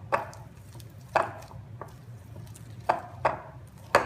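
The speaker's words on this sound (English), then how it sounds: "Mix this until you can't see any of the yolk." Gluten-free, grain-free, sugar-free cookie dough being mixed with egg in a bowl, soft knocking thuds of the utensil against the bowl repeating roughly once a second, close and alone with no talk.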